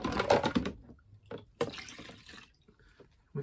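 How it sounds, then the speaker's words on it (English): Diesel fuel sloshed and swirled inside a fuel filter housing during a filter replacement, with irregular wet splashes and drips in short bursts separated by quiet gaps. "just a matter of getting some diesel in there and swirling it around"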